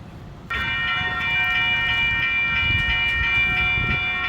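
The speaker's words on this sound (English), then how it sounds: "I ain't gonna record a whole train going by because you know that's gonna take forever, but okay, here it is." A train passes a street crossing in Burlingame, arriving abruptly as a loud, close rush of rolling wheels with sustained bright tonal ringing, likely crossing bells or a horn, that continues steadily throughout.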